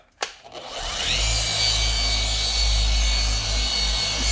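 A power polisher works car paint. After a click it starts, ramps up, then holds a loud, steady whirring hum close by.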